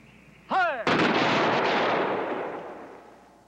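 A rifle volley is fired on command as a single loud, sharp crack with a long reverberating decay. A shouted order comes just before it.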